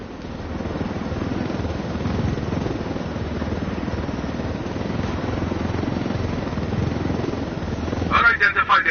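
Helicopter in Ghost Recon Wildlands flying, a steady, droning rotor and engine roar that holds at an even level, then swells with a louder pulsing thump near the end.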